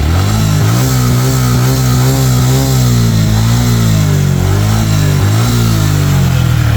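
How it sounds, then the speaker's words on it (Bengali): A Suzuki Gixxer SF motorcycle engine with about 52,000 km on it runs loud and close through the silencer, revving and settling with a steady low rumble. "কেমন আছে এখন পর্যন্ত সুজুকি জিক্সারের ইঞ্জিন সাউন্ড।"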